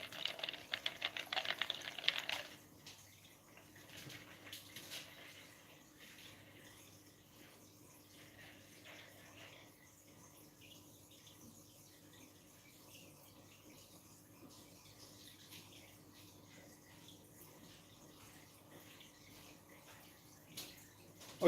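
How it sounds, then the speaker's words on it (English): Water sloshes and swirls inside a container holding newly unboxed corals, a brief louder burst of shaking at the start giving way to a low, steady watery rustle. "I'm just shaking this water around to eliminate"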